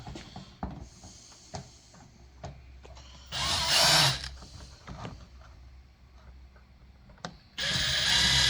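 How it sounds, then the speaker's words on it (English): Short bursts of a power drill boring holes for an off-road phone mount, loud whirring spells separated by quieter handling clicks and taps, close up. "So let's get some holes drilled and let's get this attached."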